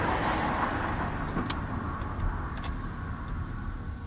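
A Mazda CX-5 (2017) pulls away slowly at a motorway toll plaza after the clutch is released, a steady broadband engine and road rumble at constant loudness, with faint intermittent clicks above it.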